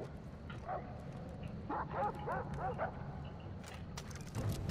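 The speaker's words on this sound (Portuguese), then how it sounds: "Agora que tem um cachorro meio chatinho" A dog in the Far Cry 3 video game barks and yips in a quick run of short calls, moderately close, over steady game background noise.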